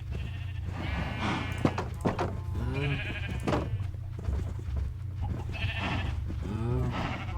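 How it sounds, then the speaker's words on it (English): Sheep bleat repeatedly in a Minecraft game, several wavering calls overlapping and spaced through the stretch, clear over a steady low hum of background noise. "so now we just have a whole bunch of sheep"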